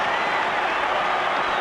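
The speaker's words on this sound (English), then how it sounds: "Well, the crowd, they are absolutely loving it." Rugby league crowd at Canberra versus Manly in 1992 cheering and applauding after Lyons scores a try to put Manly ahead, a dense, steady roar of clapping and voices filling the stadium.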